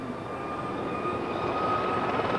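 Turbine whine of a Gazelle helicopter's Turbomeca Astazou engine at an air display, a steady loud drone with a high tonal whistle that swells slightly, continuous throughout with no talk.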